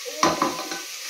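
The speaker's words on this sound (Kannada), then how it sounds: "ನೆಕ್ಸ್ಟ್ ಇದು ತರಕಾರಿ ಎಲ್ಲ ಫ್ರೈ ಆಗಬೇಕು, ಅದಕ್ಕೋಸ್ಕರ ಸ್ವಲ್ಪ ಉಪ್ಪನ್ನು ಆ್ಯಡ್ ಮಾಡ್ತಾಯಿದ್ದೀನಿ" Salted vegetables frying in a pan hiss quietly while a spoon stirs them, with a couple of brief scraping knocks against the pan.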